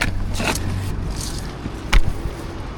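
A Jaguar car is dragged on tow with its rear wheels locked by a stuck handbrake and the gearbox in park, giving a steady low grinding rumble with a louder scraping thump near the end.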